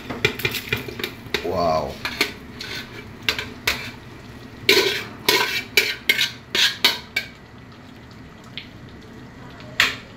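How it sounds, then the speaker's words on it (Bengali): Beef pieces tipped into part-cooked rice in a biryani pot, giving a run of clattering metallic clanks and scrapes of a utensil against the pot, irregular and close, with a brief exclamation from a voice partway through. "এখন এই বিরিয়ানির চাউলের মধ্যে মাংসগুলো ঢেলে দেওয়া হচ্ছে"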